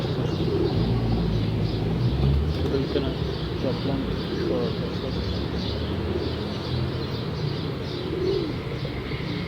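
Pigeons cooing in a loft or coop, soft repeated rounded coos and occasional chirps over a steady low background, with someone talking throughout.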